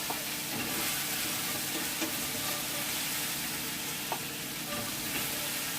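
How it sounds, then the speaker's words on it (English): Food browning in an oiled frying pan for a yam stew, a steady close sizzle and crackle of hot fat running throughout with occasional soft stirring scrapes, no voices. "We'll brown that off."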